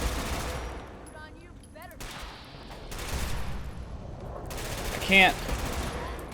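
Gunfire from Fallout 4 sounds in scattered, fairly loud shots and short bursts, with game noises and a sharp louder blast near the end; no talking.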